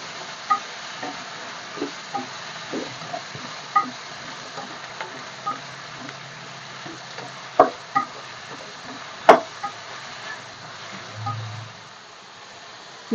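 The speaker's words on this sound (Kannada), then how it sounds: "ಇದು ಚೆನ್ನಾಗಿ ಫ್ರೈ ಆಗಲಿ." Ingredients for a field bean curry fry in a pan with a steady, soft sizzle, broken by frequent light stirring scrapes and taps at close range, with no talking.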